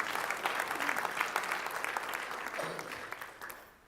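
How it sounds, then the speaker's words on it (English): An audience at a talk on building capability breaks into applause, a sustained patter of clapping from a medium crowd that tapers off near the end. "So a round of applause for Sarah"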